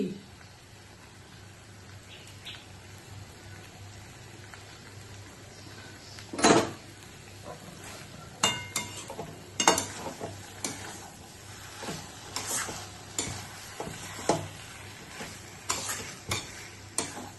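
Ghee goes into a banana flower and prawn curry, followed by a faint sizzle and stirring, with a sharp clang and then irregular scrapes and knocks of a spoon against the pan, close by.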